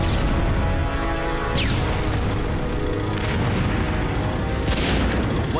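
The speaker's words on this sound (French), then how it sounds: "Un obus a touché le sol à environ 20 mètres devant nous." An artillery shell bursts about twenty metres in front of a tank in the battle of Stalingrad, part of a German barrage. Dense, loud booming and rumbling fills the whole stretch with sharper blasts rising out of a constant roar.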